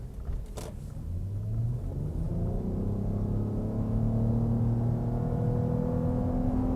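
A Lexus RX 450h hybrid SUV rated at 295 horsepower accelerates at full throttle, its engine note rising steadily in pitch as a smooth, building rumble from inside the cabin.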